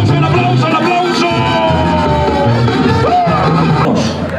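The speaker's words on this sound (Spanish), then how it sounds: "el aplauso." A rodeo crowd at a Mexican bull-riding event cheers and shouts continuously, with loud festive music playing over the noise throughout.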